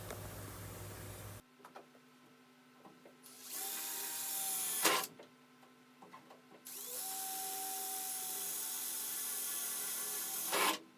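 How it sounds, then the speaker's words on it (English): A power drill bores holes in a steel wing panel during an MGB GT restoration, with two sustained whirring bursts a few seconds long, each ending abruptly, separated by quieter shop noise and small clanks. "I just need to drill some holes in here"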